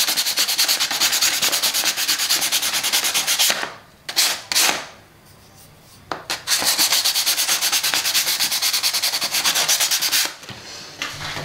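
A GoPro chin mount is rubbed hard on sandpaper in rapid rhythmic strokes, a loud close rasping that stops briefly for a few seconds and then resumes.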